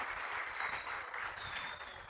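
Church congregation at a Resurrection service applauding the young people, a soft, distant wash of steady clapping lasting about two seconds without speech.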